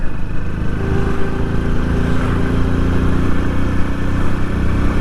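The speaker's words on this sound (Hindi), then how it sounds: "बहुत गाड़ी आ रही है, क्या बात," Motorcycles and other vehicles stream past on a hill road between Nainital and Almora districts, a loud, steady engine drone with revving close by and no pause.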